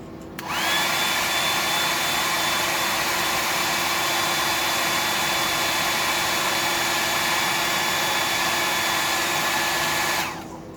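A hair dryer blows steadily, switched on and running at a constant loud whir with a faint whine for about ten seconds before cutting off, no talking over it.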